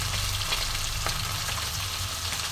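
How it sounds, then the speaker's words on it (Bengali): Morala fish fry in very hot oil in a wok, giving a dense, constant close-up sizzle and crackle with no voices. "আমি দেখো আস্তে আস্তে মাছগুলো একটু ভালো করে ভেজে নামিয়ে নেব।"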